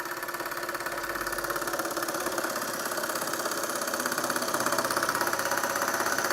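A small model steam engine, a Doll horizontal-boiler twin-flywheel overtype, runs steadily, a fast, even chuffing rhythm with a mechanical hum, close up and without voices.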